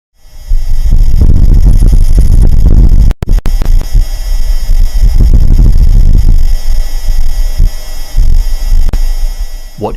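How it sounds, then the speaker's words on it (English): Gust of wind on the surface of Mars recorded by NASA's Perseverance rover: a low, buffeting rumble that swells and throbs unevenly, with a brief dropout partway through, then continues fluctuating. "What you just heard is an actual gust of wind on the surface of Mars."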